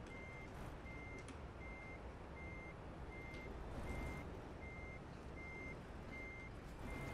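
A truck backs up with a trailer in a video game, its reversing alarm beeping steadily about once a second over a constant low engine rumble, with no voices.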